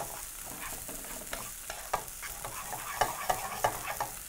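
Jeera rice being stirred with lemon juice in a hot pan: a soft, steady sizzle broken by scraping stir strokes that grow more frequent toward the end, with no voices.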